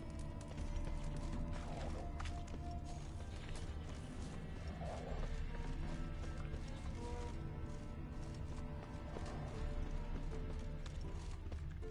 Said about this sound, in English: It's a horse. What's more, a mare.